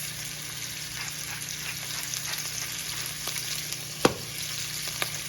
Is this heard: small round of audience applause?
no